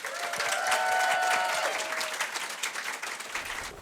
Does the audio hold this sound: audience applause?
yes